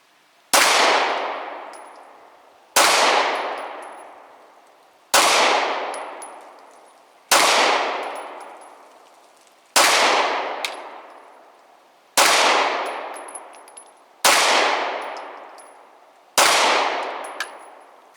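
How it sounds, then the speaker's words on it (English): A Springfield XDM Elite 9mm pistol fires eight loud, sharp shots, each followed by a long ringing decay, spaced about two and a half seconds apart with no talking. "So we took 16 shots total."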